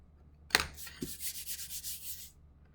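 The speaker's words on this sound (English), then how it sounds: "go back with your eraser and erase those pencil lines" A rubber eraser scrubs over paper to remove traced pencil lines during a directed drawing lesson, with a sharp initial scratch followed by a run of quick back-and-forth rubbing strokes, close and fairly soft, with no talking.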